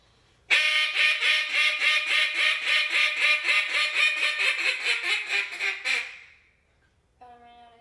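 A duck call blown at a calling class in a long, rapid run of loud, evenly spaced quacks that trails off, followed by a short, quieter burst of quacks.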